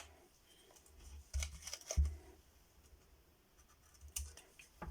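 Scissors snip through a length of linen string in a few short, quiet cuts, with soft handling rustles around them and no talk.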